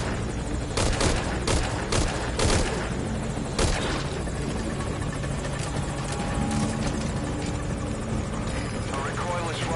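A helicopter in the video game Metal Gear Solid V, its steady rotor roar running under the whole scene while sharp gunshot cracks and bursts of fire break through, mostly early on, with some talk mixed in.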